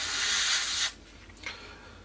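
A short, loud hiss of an aerosol spray on an Airfix 1/48 P-51D Mustang model kit for just under a second, then it cuts off, leaving quiet room tone with a faint brief rustle.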